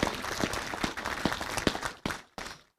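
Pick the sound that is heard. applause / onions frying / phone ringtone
applause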